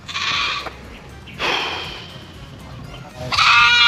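A goat bleats loudly and close by in three strained, nasal cries separated by short pauses, the last one rising sharply at the end.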